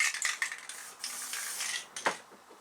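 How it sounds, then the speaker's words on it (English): Tacky spray adhesive misted onto a fabric panel with 3D embroidered flowers for a zipper pouch, heard as a close, hissing burst of spray followed by short, faint handling clicks. "I'm going to go ahead and do a little tacky spray on this one."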